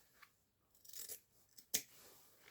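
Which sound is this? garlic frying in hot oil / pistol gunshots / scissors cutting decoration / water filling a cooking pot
scissors cutting decoration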